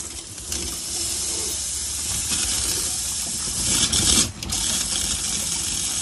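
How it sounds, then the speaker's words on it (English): Constant loud hissing and rushing like water and steam flowing through a Chausson Welcome 610 caravan's hot water heater, with a brief louder surge near the end. "So that's your hot water system working as it should."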